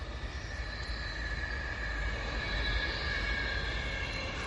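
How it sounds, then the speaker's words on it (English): A train runs past on a quiet rural road lined with pylons, a steady, continuous rumble with faint wheel squeal holding level throughout, heard from the roadside with no talk. "A train going past me on the left hand side."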